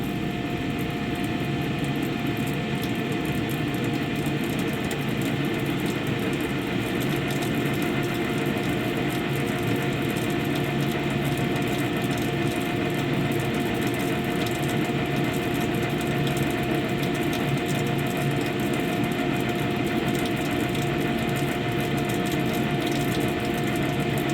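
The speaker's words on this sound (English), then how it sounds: "We can hear our pump." A newly installed pump running after being switched on as it builds pressure, a steady continuous mechanical hum and whir with a constant tone, even and unchanging throughout with no talking.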